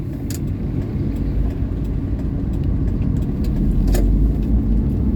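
Busy road traffic rolls past on a wet street in light drizzle, a continuous low rumble of car engines and tyres with faint clinks, steady and fairly near.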